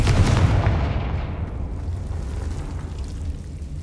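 A Confringo fire-spell blast in the game Hogwarts Legacy: a deep, heavy explosion boom that hits at once and rumbles away over a few seconds, loud and with no talking.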